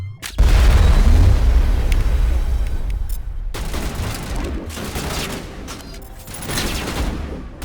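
Heavy gunfire in Mass Effect: a loud opening boom, then sustained bursts of shots and blasts that ease off and swell again near the end.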